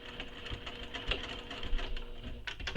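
A domestic sewing machine back stitching a seam on a handmade Perry the Happy Traveler project, its motor running in a steady close mechanical whir with quick stitch taps throughout.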